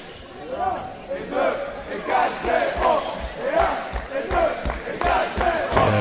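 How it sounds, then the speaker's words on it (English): Swiss fans cheer and shout in the stands at a Euros mixed dodgeball match against France, a steady, loud crowd roar with chanting voices and overlapping chatter that rises and falls throughout. "In the background, the Swiss fans getting back into it, cheering their guys on"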